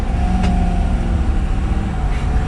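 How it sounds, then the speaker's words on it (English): A 2022 Ford F350 Super Duty Platinum FX4 pickup, unloaded, accelerating under throttle, with a steady low engine drone and road rumble heard from inside the cab, without talk. "We're gonna give it some gas here with just an empty truck."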